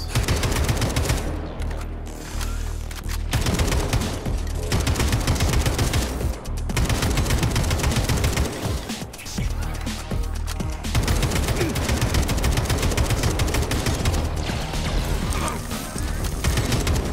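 Rapid bursts of automatic gunfire in the video game Atomic Heart crackle almost without pause, loud and dense, with brief gaps between volleys and occasional heavier impacts.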